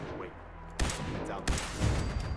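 Two sharp gunshots from a Fallout 4 firefight crack out one after another over a busy game soundscape, with a faint voice underneath.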